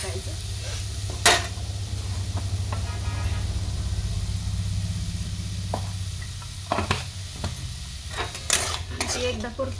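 Hyacinth bean pods being stir-fried with masala in a pan, a steady low sizzle under occasional sharp clinks and scrapes of a spoon against the pan, close and moderate in level.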